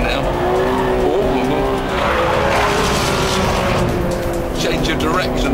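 Ferrari 599 GTB pushed hard around a test track, its engine roaring loud and close with gear changes and tyres squealing and skidding through direction changes, while someone talks over it.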